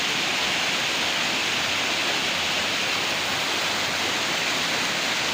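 Water rushes through a sluice gate by a sandy riverbank in a steady, dense, loud roar that stays unchanged from start to finish, with no voices.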